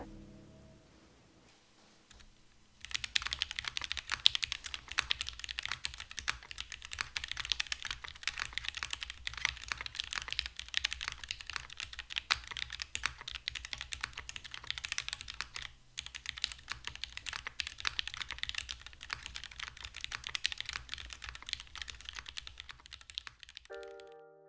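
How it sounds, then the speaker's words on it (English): Fast continuous typing on a Vertex Angle TKL mechanical keyboard fitted with GMK keycaps, a dense patter of clicky keystrokes heard alone after a brief quiet start, with a short pause near the middle. "Now, take a listen to the finished build."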